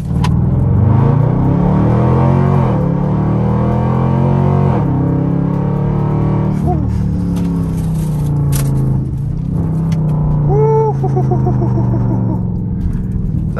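A 2021 Dodge Durango R/T accelerates hard from a stop to 60 mph, heard from inside the cabin: a loud, steady engine roar climbs and drops through gear changes, with brief scraping and beeping near the end.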